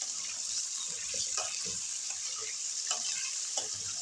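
Potatoes frying in oil in a karahi, a dense, even hiss of sizzling with occasional soft stirring scrapes, close and continuous, no talk.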